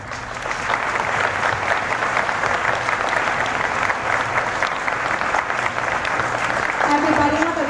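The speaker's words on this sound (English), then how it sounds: "I was wondering if you could please give them a round of applause" A school audience at a grandparents day concert gives dense, continuous applause that holds loud and steady throughout, and a voice begins speaking over it near the end.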